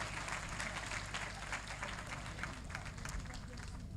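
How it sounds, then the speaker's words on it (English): Crowd applause at a career readiness and employability program launch, steady dense clapping across the whole stretch at moderate level over a low hum, with some voices mixed in. "Let's give another hand clap to Frank Gashumba"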